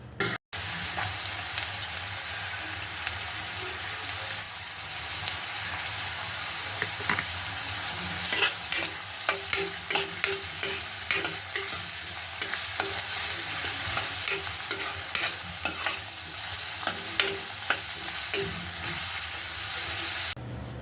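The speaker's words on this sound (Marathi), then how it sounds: "तेल गरम झालेलं आहे आपण आता त्यामध्ये एक मध्यम आकाराचा कांदा उभा आडवा चिरून घाल घालणार आहोत" Chopped medium onion frying in about three spoons of hot groundnut oil in a pan, making a steady loud sizzle and hiss throughout, with scattered clicks and scrapes from stirring, and no voices.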